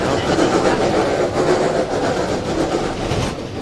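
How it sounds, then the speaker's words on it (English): A train runs a player over in a video game with flying cars and racing trains, a loud continuous rumbling rush with clattering wheels that holds steady, then eases slightly at the end. "That was Alex getting ran over by a train"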